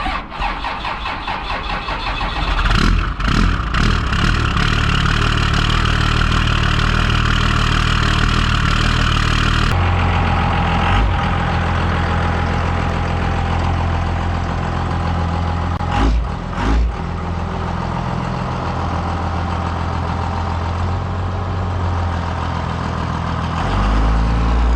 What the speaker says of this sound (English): frosty mornings require a frosty cold start